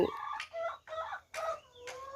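Backyard egg-laying hens being fed leftover rice on a rural Thai farm cluck and call in several close, loud bursts separated by short pauses, with a drawn-out crow-like cry among them.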